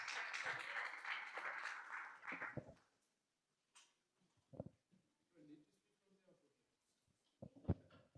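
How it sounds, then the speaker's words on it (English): A church youth gathering claps its hands as a reverend comes forward. Loud, dense applause fills the first few seconds and fades out, followed by faint scattered knocks and quiet talking. "May we clap our hands as he comes to give us remarks."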